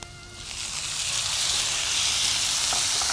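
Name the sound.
frying onion masala with tomatoes in a pan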